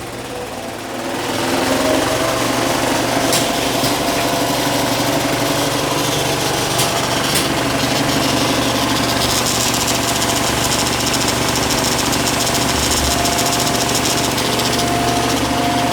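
A loud, steady mechanical whir and clatter from an IMAX 70mm film projector in a Montpellier cinema starts after a brief quiet moment and runs continuously, with a rapid rhythmic chatter.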